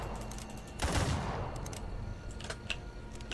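A burst of gunfire erupts about a second in, followed by scattered fainter shots and clicks from the Roblox game The Wild West, with no talking.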